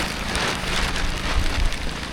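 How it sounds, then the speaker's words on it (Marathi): Light drizzle in the Konkan patters steadily on a surface, a dense even hiss of drops close by with no voices. "त्याच्यानंतर आता पावसाला रिमझिम सुरुवात झाली."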